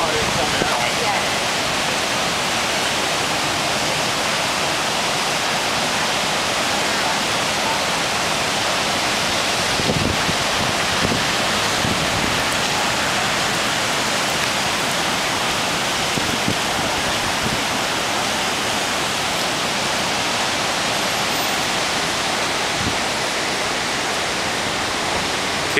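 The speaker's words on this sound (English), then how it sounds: "The water is coming out." Floodwater from Pompton Lakes Dam roars steadily during Hurricane Irene, a loud, continuous broadband rush that persists unbroken for the whole stretch with no clear voices on top.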